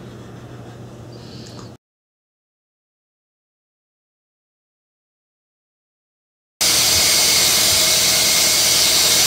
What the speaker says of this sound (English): this is just a quick demonstration of the boring attachment that I made on this lathe. I'm boring a 2-inch hole